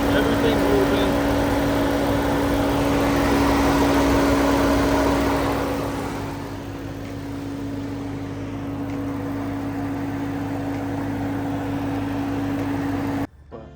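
A Ram TRX pickup's engine runs with the hood open and the belt spinning, a steady loud mechanical hum and whine that eases slightly partway through and then cuts off at the end.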